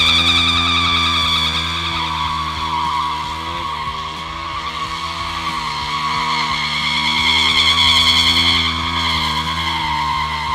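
A motorcycle spins a donut, its tire squealing and skidding continuously over a revving engine, loud and close, the shrill tone wavering for several seconds with no talk.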